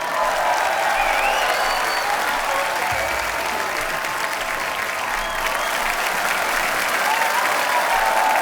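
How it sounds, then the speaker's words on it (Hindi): Loud, sustained applause from a large television studio audience, steady clapping filling the whole stretch without letup. "तो आप सबकी जोरदार तालियों के बीच मैं स्वागत करना चाहूंगा फिल्म मिर्जा के डायरेक्टर मिस्टर राकेश ओम प"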